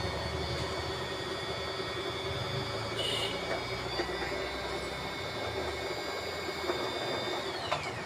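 Usha Janome Wonder Stitch sewing machine running in a steady, close mechanical whir with a fine rapid rhythm throughout, no speech.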